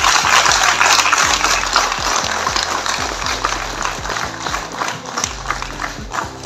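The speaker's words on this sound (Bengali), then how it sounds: "আমরা একটু জোরে সবাই মিলে যদি হাততালি দিই" An audience at a book launch applauds, a dense, loud wash of many hands clapping that carries on steadily and eases off slightly toward the end.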